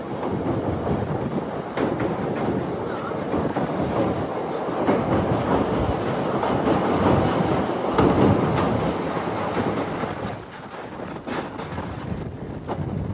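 A train rumbles steadily and loudly across a bridge, wheels clattering rhythmically over the rails for the whole stretch, with no talking.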